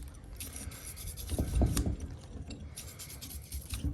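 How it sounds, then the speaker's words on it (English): Old dirt and grime are scrubbed off a DRZ400 motorcycle shock, giving close, raspy rubbing strokes that build to a louder burst midway and then continue more lightly. "Get some of that old dirt and grime off of it."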